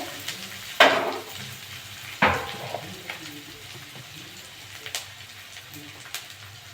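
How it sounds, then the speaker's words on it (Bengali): Ginger and garlic fry in oil with a soft background sizzle, punctuated by two loud spattering bursts and a few smaller pops. "আদা রসুন একটু ভেজে নেব"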